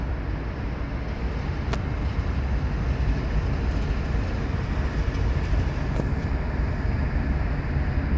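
CSX light-power locomotives rolling past with a steady, broad rumble and rail noise that stays loud throughout, with no voices.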